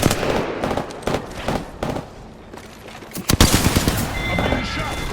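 Rapid bursts of gunfire in the Apex Legends video game, close and loud, with short volleys separated by brief gaps and a heavier cluster of shots near the end.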